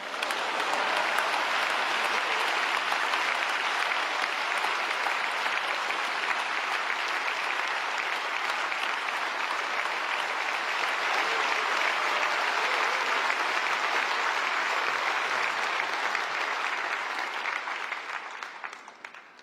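A large crowd at the 26th Pentecostal World Conference claps to welcome a speaker onstage: dense, loud, sustained applause lasting about eighteen seconds before tapering off at the end.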